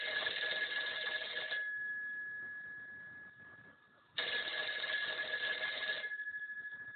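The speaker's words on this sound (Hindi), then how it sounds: "फोन की घंटी बजी" Telephone ringing in two long electronic trills separated by a pause, bright and clear, heard alone in a quiet room.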